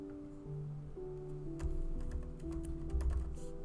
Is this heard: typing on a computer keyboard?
yes